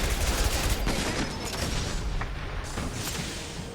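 Combat in Mass Effect 3, a dense fusillade of rapid weapon fire mixed with heavy booms and rumbling impacts, loud and continuous throughout with no voices.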